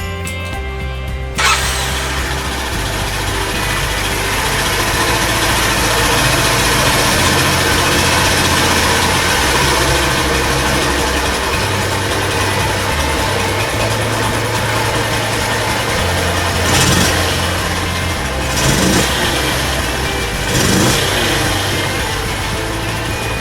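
A Honda Super Cub motorcycle engine starts with a brief cranking burst, then settles into a steady, close idle with a low thumping rhythm that runs alone, with a few small blips near the end.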